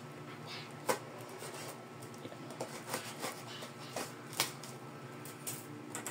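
Hard cardboard tube packaging for a fishing rod being opened, with a few scattered papery scrapes, taps and sharp clicks over a steady low background hum, fairly faint and close.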